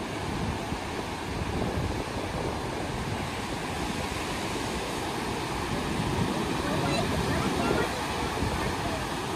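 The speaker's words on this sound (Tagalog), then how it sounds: "Ang sarap sa tenga yung ingay ng karagatan." Steady broadband rush of ocean surf rolls on without pause, a dense wash of waves with gentle swells in loudness.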